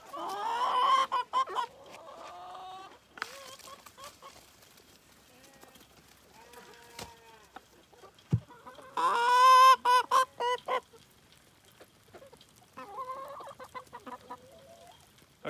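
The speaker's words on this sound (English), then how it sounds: "Come on, chickens." Chickens cluck and squawk in bursts at feeding time on a farm, fairly close, with quieter gaps between flurries and some pig noise mixed in.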